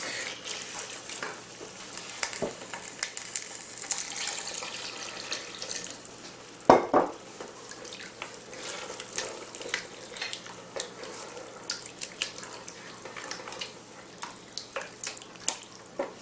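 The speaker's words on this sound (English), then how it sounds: "we're just going to add enough liquid for it to cook." Liquid being poured into a pot of Greek keema saltsa, a steady running-water pour heard alone at close range, with a brief clatter partway through.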